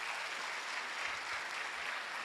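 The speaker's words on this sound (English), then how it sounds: "A big applause for the Honorable Deputy Minister" Steady applause from a crowd at a physician assistants' induction ceremony, continuous clapping that stays even and fairly distant throughout, with no voices standing out.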